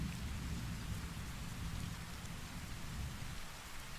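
Steady, soft rainfall patters on a surface with a low rumbling undertone, a constant even wash of rain with no speech.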